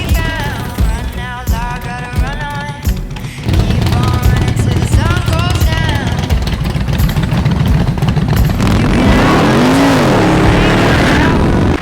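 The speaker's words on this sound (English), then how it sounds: "this is my hog for the day, the Nissan little car thing." A small Nissan car engine runs and revs, rising and falling in pitch over a loud continuous roar with rattling, close to the listener, with voices mixed in.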